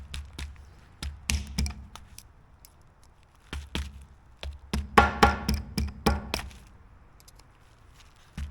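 Sharp metallic taps from a hammer on metal during a New Holland skid steer hydraulic cylinder rebuild, in uneven bursts, some light and isolated, others quick clusters of clanks, with quiet gaps between.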